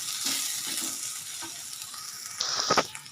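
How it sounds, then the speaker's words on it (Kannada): Onions cooking in a pan with salt make a soft, continuous sizzle under light stirring, and a brief louder clatter and splash of scraping come near the end. "ಈರುಳ್ಳಿ ಎಲ್ಲ ಈ ಥರ ಚೆನ್ನಾಗಿ ಬೇಯ್ತಾ ಇದೆ ನೋಡಿ"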